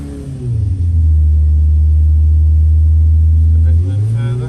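A 930cc engine on a dyno revs up from idle into a loud, deep, steady drone, holds for about three seconds, then drops back down, heard close and alone.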